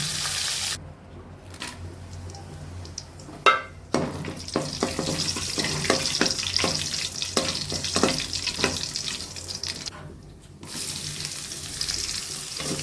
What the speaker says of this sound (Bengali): এখানে রোস্টের মশলাগুলো ভালো করে কষিয়ে নিচ্ছিলাম